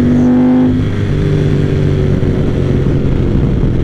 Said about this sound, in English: There's just something to be said about an old classic Desmodue V-twin.